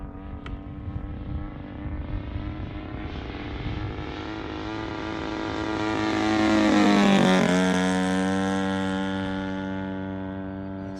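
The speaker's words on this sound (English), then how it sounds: "Flying smooth, engine's powerful." Seagull Models giant scale Zero RC plane with an EME60 gas engine in flight at about half throttle, a steady loud drone that swells as it passes close around the middle and then fades slightly, with shifting pitch.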